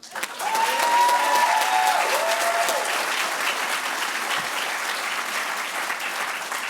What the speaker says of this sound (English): I think graduation deserves many more applauses than they've gotten.